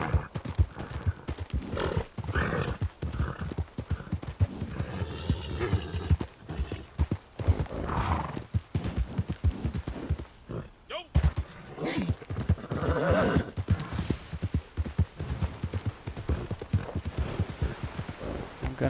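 Horse hooves clip-clop steadily in Red Dead Online, with a whinny breaking through the rhythmic footfalls; the galloping stays loud and close, and a brief gap in the sound comes around the midpoint.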